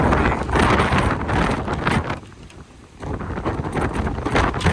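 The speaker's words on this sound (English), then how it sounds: "That wind is something else out here." Wind gusting outdoors at a police towing and recovery vehicle auction lot, loud buffeting roar that briefly drops near the middle before surging back, with no talking.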